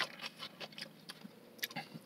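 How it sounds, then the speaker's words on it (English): Peas from Panda Express vegetables crunch between the teeth while being chewed. The close, faint crisp bites and snaps come in short irregular bursts with no talk. "Hear that crunch of those peas"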